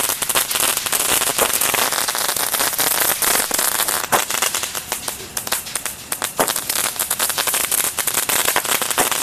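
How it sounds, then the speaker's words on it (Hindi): A Supreme Crazy Nut sky shot firecracker going off at Diwali throws out a dense, nonstop barrage of sharp crackling pops. It stays loud and steady for several seconds with no voices. "सो गाइस लगाते हैं सुप्रीम के क्रेजी नट स्काई शॉट में आग"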